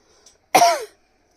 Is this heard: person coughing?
yes